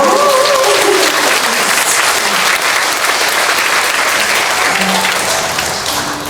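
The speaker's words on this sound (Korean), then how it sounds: "박수로 환영해주세요." Loud, close applause from a church congregation welcoming a piano accompanist, a thick steady clatter that tapers off toward the end, with a voice speaking briefly at the start.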